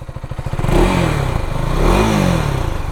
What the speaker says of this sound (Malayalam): RPM കയറി വരുന്ന ടൈം അത്യാവശ്യം ലൗഡായിട്ടുള്ള എക്സോസ്റ്റ് ആണ്.